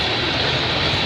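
CN M396 freight train led by CSX and Union Pacific locomotives passing Burlington Junction on a rainy day, a loud, steady rolling rumble close by.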